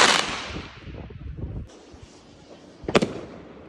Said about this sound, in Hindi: अभी तक देखो कितने पटाखे लोग जला रहे हैं, सेलिब्रेट कर रहे हैं जो नया साल है उसको